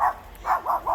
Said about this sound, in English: You're barking at him.